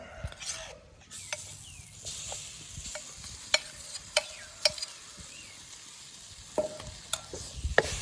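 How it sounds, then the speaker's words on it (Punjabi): Green peas stirred into onions and roasted gram flour in a pan, with sharp scraping and tapping clicks of the spoon against the metal over a faint background sizzle, close and fairly quiet. "ਤੇ ਇਹਨਾਂ ਨੂੰ ਵੀ ਆਪਾਂ ਨਾਲ ਮਿਕਸ ਕਰ ਦਿਆਂਗੇ ਚੰਗੇ ਤਰੀਕੇ ਨਾਲ"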